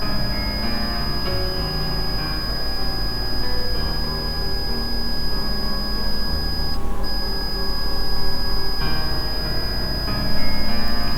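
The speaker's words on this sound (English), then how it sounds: "Can you make that beeping stop?" A steady high electronic tone keeps sounding throughout a quiet indoor room in a reputedly haunted house, with constant low background hum beneath it and a brief dropout partway through.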